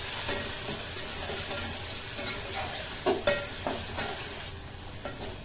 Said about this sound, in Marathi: बारीक चिरलेलं टोमॅटो हे पण छान असं मिक्स करून यामध्ये परतायचं आहे